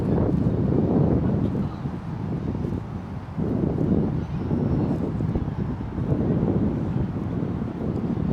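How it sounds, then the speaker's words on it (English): Strong wind buffets the microphone outdoors near the Ho Chi Minh Mausoleum in Hanoi in a continuous low rumble, gusting slightly stronger and weaker throughout, with no clear voices. "It's a little bit windy out here."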